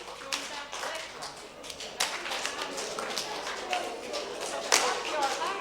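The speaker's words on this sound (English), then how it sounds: "So clap your hands and join the right hand" A group claps hands in a steady rhythm during a simple audience exercise, sharp taps repeating close together at moderate loudness, with faint voices underneath.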